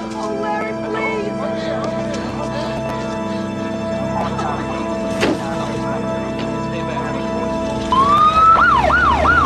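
An ambulance siren wails loudly over a busy mix of background sound and music-like tones, rising into a sweeping up-and-down yelp near the end.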